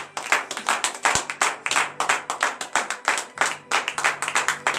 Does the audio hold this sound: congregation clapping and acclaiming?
yes